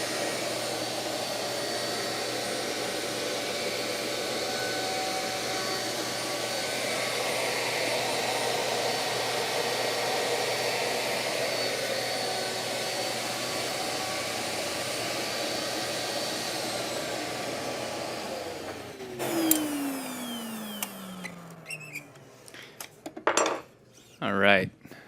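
Shaper handheld CNC router cutting a raised letter sign in a workshop, giving a long steady whirring roar up close that stops abruptly near the end, followed by a falling whine and a few clattering knocks as the tool is handled.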